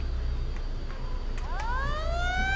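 Fire truck siren from Farming Simulator 22 rising and sweeping upward in a wailing tone, loud over a steady low engine rumble.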